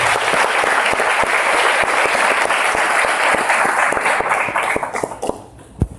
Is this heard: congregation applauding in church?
yes